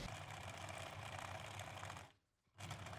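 A sewing machine stitches a 1 cm wide casing tunnel along the flat-pressed edge of a linen open-back dress. A steady, continuous mechanical whir runs up close, pausing briefly before starting again.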